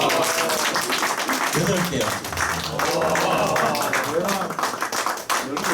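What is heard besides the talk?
applause for the quiz winners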